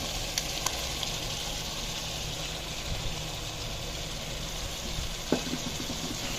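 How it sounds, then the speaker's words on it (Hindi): Fried okra and green chillies dropped into a dhaba-style yogurt masala gravy for dahi bhindi, a dense steady sizzle with a couple of faint clinks and one brief tap near the end, no talking. "अभी हम इसमें डाल देते हैं फ्राई की हुई भिंडी और मिर्च।"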